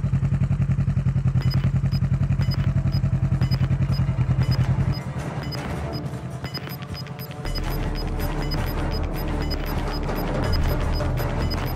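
A vehicle driven in the Call of Duty Modern Warfare battle royale: a loud, steady engine drone with rattling and clatter throughout, the tone dropping partway as the ride gets rougher, with no talking.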